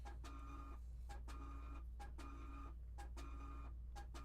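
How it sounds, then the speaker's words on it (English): A loud printer churns out a baseball trading card in rhythmic cycles, a whirring mechanical pass with sharp clicks repeating about once a second, close and steady with no one talking. "Uh-oh, loud printer. Loud printer."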